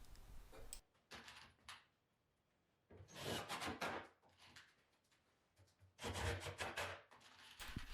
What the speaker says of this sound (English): I can start attaching the decorative pieces on the side with some screws